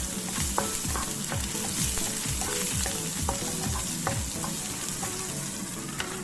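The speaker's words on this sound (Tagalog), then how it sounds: "gisa ulit ako ng bawang at saka sibuyas" Garlic and onion sautéing in a pan for shrimp chop suey, a loud, steady sizzle with frequent scraping and stirring knocks from a utensil, close and continuous.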